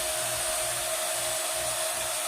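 A vacuum pump evacuating a car's air-conditioning lines before an R-134A recharge runs with a steady, loud whir and a constant tonal hum.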